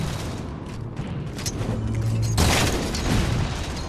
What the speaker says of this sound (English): just trying to do some damage with my grenades